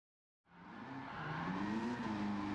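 A 1969 Chevrolet Corvette Stingray C3 convertible with an engine swap drifts around Suzuka in Gran Turismo 7, tires squealing over a steady engine roar that rises out of silence and holds.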